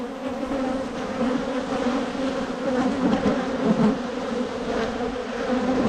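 Honeybees drone in a dense, continuous buzz from an open hive during a honey harvest, many insects at once, close and fairly loud with gently swelling intensity.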